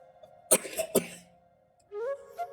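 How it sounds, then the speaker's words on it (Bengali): A child coughs two or three times in quick succession, close by, then a brief vocal sound follows after a pause. "কাশি হয়ে গেছে ওর।"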